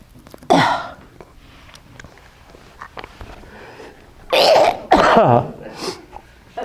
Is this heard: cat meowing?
no